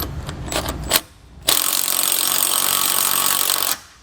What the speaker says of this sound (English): Same size socket, we'll tighten these down.